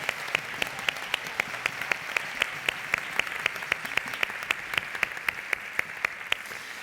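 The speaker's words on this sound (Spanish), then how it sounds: "que despedimos ya con un aplauso" An audience applauds at the end of a traditional costume presentation at a festival of regional dress in Zamora. Brisk, sustained clapping with sharp, evenly spaced claps stands out clearly, with no talk.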